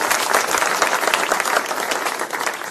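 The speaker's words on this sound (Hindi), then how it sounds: "एक बार जोरदार ताली के साथ बहुत स्वागत करें" Steady, dense applause from a crowd at a BSP–INLD election rally in Bhondsi, Gurugram, Haryana, sustained without a break for the full stretch.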